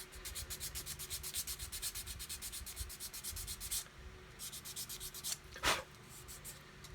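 Coarse sanding stick rubbed over ejector pin marks on a plastic model kit part from an Airfix new-tool 1/72 Vulcan cockpit, a rapid run of close, steady scratchy strokes, a short pause, then more strokes ending in one sharper scrape.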